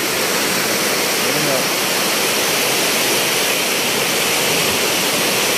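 A strong river in flood roars in a continuous dense wash of rushing water, loud and steady throughout, with no gaps or letup.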